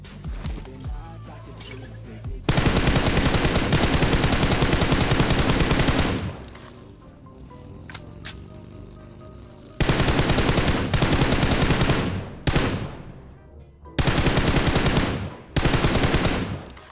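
Automatic weapon fire in a ranked PUBG Mobile match played on an iPad 9: three long, loud sustained bursts of rapid shots, separated by quieter gaps with a few isolated cracks.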